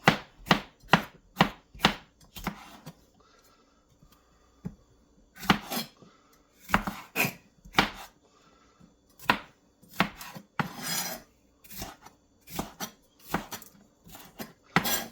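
A knife chops food on a cutting board in quick bursts of sharp, close knocks, clustered strikes separated by short pauses, loud and clear with no talking.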